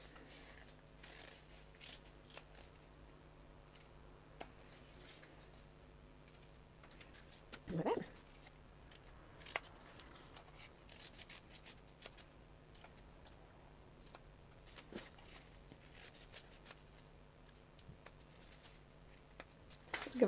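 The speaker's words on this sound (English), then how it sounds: "cut to the end, and then snip into our corner" Scissors snip cotton fabric in a quiet sewing room, a few sparse, faint cuts and clicks spread over twenty seconds with soft handling noise between them and no talking.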